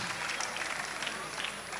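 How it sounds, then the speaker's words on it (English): An audience claps steadily for teachers during a live-streamed celebration, a dense continuous round of applause with no break, fairly close and even in level. "Please, let's not stop clapping for them."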